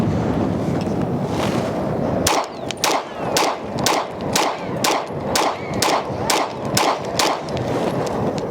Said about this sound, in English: I'm just going to shoot 10 rounds through it